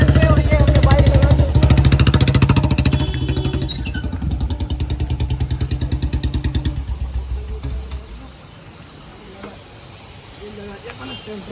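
Royal Enfield Bullet motorcycle with a long Punjab-style aftermarket exhaust and short bottle silencer, its engine thumping loudly and steadily at idle for several seconds before cutting off, with faint service-station ambience remaining.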